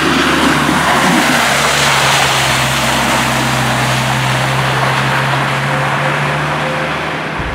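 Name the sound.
Dodge Viper driving on a wet road in the rain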